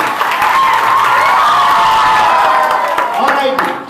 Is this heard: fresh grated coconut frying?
no